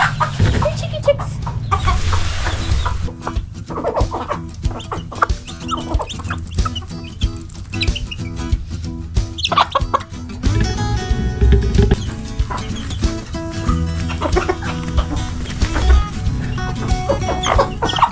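Chickens cluck and call near a cottage garden, with busy overlapping clucks and squawks from several birds throughout and occasional faint background sounds.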